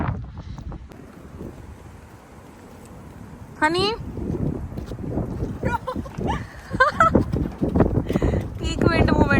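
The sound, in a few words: strong wind outdoors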